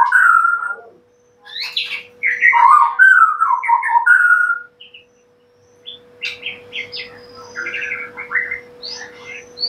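A white-rumped shama sings loud, rich warbling phrases and whistles in two bursts with a pause between, close and clear over a faint steady hum.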